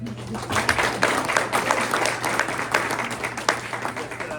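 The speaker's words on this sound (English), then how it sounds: "another round of applause for Vivian." Audience applause at a press luncheon, a dense, steady clapping from a room full of people lasting several seconds with scattered louder claps and a low background hum.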